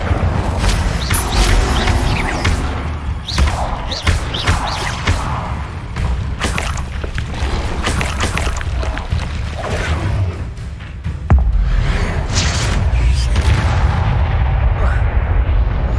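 A busy, loud burst of Incendio fire-spell casting in Hogwarts Legacy: repeated sharp whooshing blasts and booming impacts layered over a rumbling battle din, with no pause across the whole stretch.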